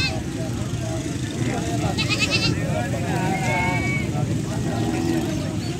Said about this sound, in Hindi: ये गब्बन बकरी है